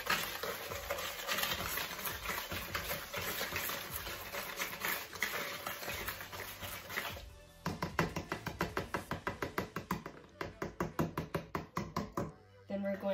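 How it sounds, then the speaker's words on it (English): Banana bread batter being mixed in a bowl, heard as rapid rhythmic tapping and knocking of a utensil against the bowl, close and steady, with a brief pause partway through. "We're going to mix this together so it's all combined."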